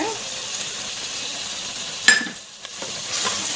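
Onions frying with ginger-garlic paste in a pan while making pressure cooker mutton biryani: soft steady sizzle, one sharp metallic clink of a spoon on the pan, then quieter frying.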